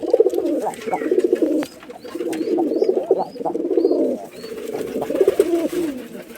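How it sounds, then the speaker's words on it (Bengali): Rajshahi roller pigeons coo close by in repeated throaty, rolling phrases with short pauses between bouts, loud and full, with a few faint higher chirps in the background. "রুম বাজি কবুতর একটু দাম বেশি"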